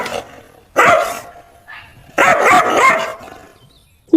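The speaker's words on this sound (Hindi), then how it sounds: "जोर जोर से भौंकने लगता है" A dog barks loudly and close in two separate bursts of several rapid, harsh barks, with quieter gaps between them and no speech.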